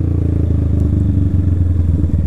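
A motorcycle engine holds at the rev limiter, a loud close rattling drone with rapid uneven stuttering pulses as the ignition cuts in and out, continuous throughout.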